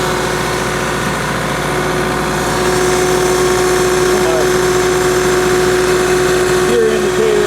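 A Kubota M5660 SU shuttle-shift tractor idling in neutral during a shift to the high range, a steady close engine drone with a sustained mechanical whine entering partway and a few brief clunks near the end.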